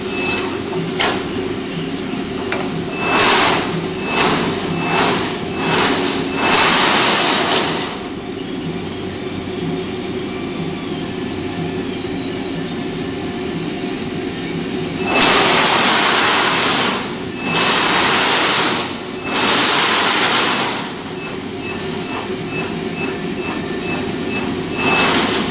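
Amada Octo sheet-metal machine repositioning automatically, heard as several bursts of loud broadband mechanical whirring and clatter over a steady machine hum, with pauses between the bursts.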